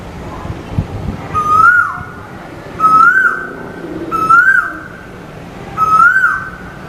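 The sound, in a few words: bird chirping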